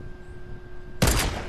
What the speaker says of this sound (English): Oh, I just headshot him once